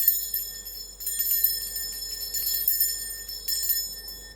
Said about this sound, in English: I don't think that I have rung my bell